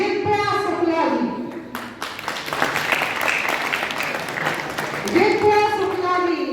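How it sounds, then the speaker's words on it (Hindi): Children and audience at a district science exhibition prize announcement break into applause between stretches of a voice speaking over a loudspeaker, the clapping a dense wash in the middle. "तालियों की कमी न करें बच्चों"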